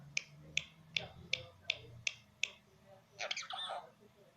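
A parrot mimics finger snapping: seven crisp, evenly spaced snaps close to the microphone, followed by a short squawky burst, with faint low background hum.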